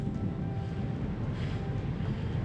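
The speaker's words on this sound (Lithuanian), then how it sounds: "Na, kadangi esam prie jūros, tai vėl turim vėjo." Steady, loud wind roaring and buffeting the microphone on the seacoast, a continuous broadband rush with no pauses and no voices.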